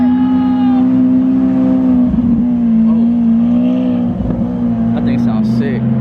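Lamborghini Aventador with gold wheels at an outdoor car meet, its engine holding a steady loud idle-to-rev drone with rising harmonics, close by, under a continuous crowd and traffic background.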